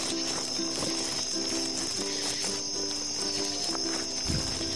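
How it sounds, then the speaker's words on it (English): Crickets chirp steadily at night in a forest on a ridge, a faint high continuous trill with a few soft scattered sounds beneath and no speech. "The crickets?"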